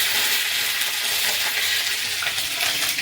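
Food frying in a pan as a mother cooks at home: a steady, loud, close hiss of sizzling oil with faint stirring scrapes, continuous and without speech.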